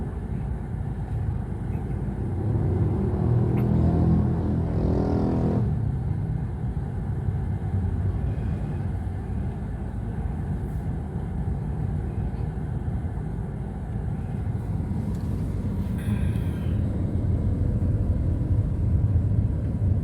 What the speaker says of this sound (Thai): ตอนนี้เย็นรถจะติดแบบเนี้ย